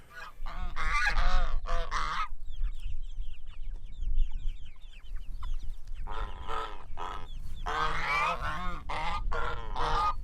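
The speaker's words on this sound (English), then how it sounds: "I'm going to talk about our geese and our duck" Farm geese, with a duck among them, honk loudly and repeatedly in dense clustered bursts, pausing briefly midway before a renewed raucous chorus close by.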